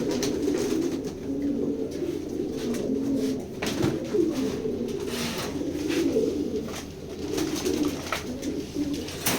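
Pigeons coo softly and steadily at close range, a continuous layered murmur of low rolling calls with occasional wing flutters and clicks.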